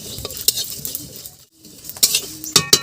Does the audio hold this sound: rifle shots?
no